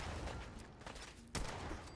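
Faint bursts of gunfire in Fallout 4, soft rapid shots over a steady game background, with one sharper, louder crack near the end.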